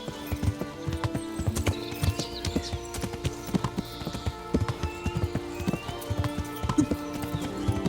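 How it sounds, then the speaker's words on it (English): Horse hooves clip-clop at a steady, quick trotting rhythm while riding in the medieval video game Kingdom Come Deliverance, loud and close, with occasional faint snorts and no talk. "Actual sound effects of me riding a horse, IRL."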